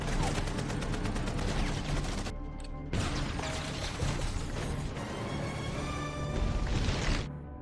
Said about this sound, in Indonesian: Pertarungan yang diwarnai dengan rangkaian tembakan dan ledakan pun terjadi dengan begitu epiknya.